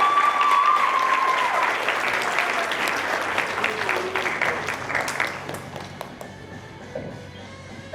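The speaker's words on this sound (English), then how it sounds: "If we could give another round of applause to all our poets today" An audience at a poetry night claps after a poem, dense applause loud at first and thinning out toward the end into a few scattered claps.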